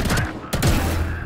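Gunfire sprays in bursts in a custom Escalation and Deathmatch video game, a loud, dense rattle that breaks off briefly before a second volley.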